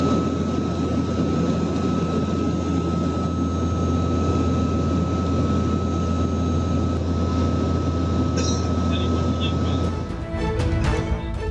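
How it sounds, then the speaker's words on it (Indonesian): A CN-235 aircraft flies over the Bali Strait during a search for victims of a sunken ferry, its engines giving a loud, steady drone with a constant tone throughout that breaks off near the end. "Pesawat udara CN-235 dikerahkan guna memantau dan mencari korban"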